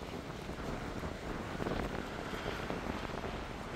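Outdoors beside the Beas river, a constant rush of wind buffets the microphone, with a broad, even roar and no speech.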